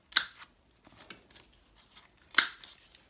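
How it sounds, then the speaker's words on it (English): Scissors snip twice through paper corners of a scrap-paper tag or tuck being made, two crisp close cuts about two seconds apart with faint paper handling between them. "just going to cut the corners again"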